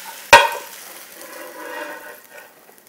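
Gnocchi tossed in a pan of rosemary brown butter: one sharp metallic clack of the pan, then a soft, fading sizzle and shuffle of the dumplings, quiet and close, no voices.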